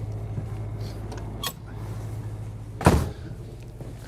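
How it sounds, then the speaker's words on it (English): The door of a 2023 Newmar Kountry Star 3709 motorhome shuts with one firm, close thud, preceded by a brief click, against a steady low hum. "I'm going to shut this door."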